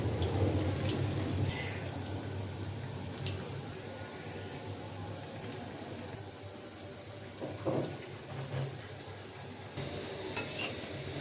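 Water lily flower fritters frying in a pan of hot oil, a continuous dense crackle and sizzle with occasional clinks of a utensil against the pan, no speech.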